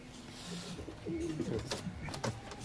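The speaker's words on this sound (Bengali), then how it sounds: "একটা ফুল সিরা পায়রা মাদা দেখতে পাচ্ছ" High-flying pigeons coo in a loft, with several low, overlapping, throaty calls close by and faint rustling beneath.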